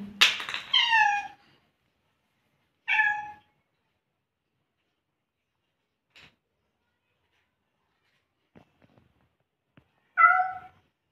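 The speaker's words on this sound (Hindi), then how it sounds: "यहाँ पर बिल्ली आई थी भूखी थी" A hungry cat meows in a quiet indoor spot, with several distinct mews spaced seconds apart and faint small clicks and noises between them.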